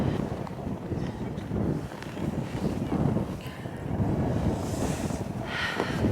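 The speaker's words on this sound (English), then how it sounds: "It was too windy, therefore it's quite risky to do that." Strong Arctic wind in northern Norway buffets the microphone with a continuous, rumbling roar that surges and eases in gusts, with faint hissy bursts near the end.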